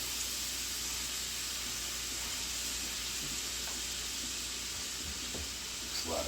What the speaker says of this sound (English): I like to saute mine a little bit. I like to saute it some